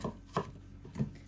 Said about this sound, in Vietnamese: Sắc xong cải bắp tím thì mình sẽ sắc luôn cái cải bắp trắng này ra